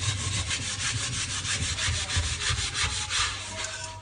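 A cauldron being scrubbed with an abrasive sponge, with fast, steady back-and-forth rasping strokes in a regular rhythm, close and continuous, with no talking.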